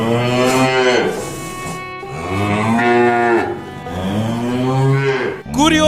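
Close and loud, an ox lows in three sustained, resonant moos separated by short breaths, ending with a brief clipped start of another call, no people speaking.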